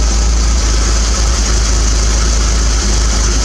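A 1980 Triumph TR7 engine idles steadily up close, a loud continuous low throb with even mechanical vibration and no voices.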